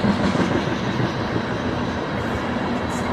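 A long loaded BNSF coal train rolls past close by, a steady loud rumble of wagons with rhythmic clacking of wheels over rail joints.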